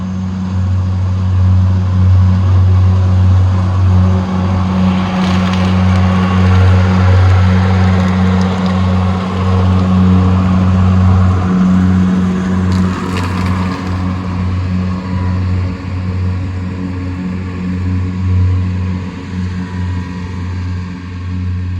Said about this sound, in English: Hold on, this truck coming again.